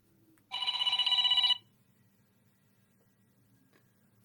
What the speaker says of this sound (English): of course, the phone rings while I'm live, right?